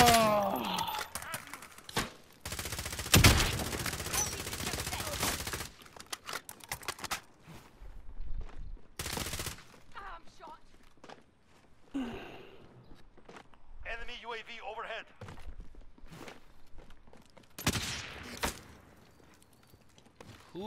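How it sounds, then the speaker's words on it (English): Gunfire in Call of Duty: Modern Warfare multiplayer, with loud, sharp bursts of rapid shots separated by quieter stretches of crackling impacts and faint background voices. "Who is popping shots from where?"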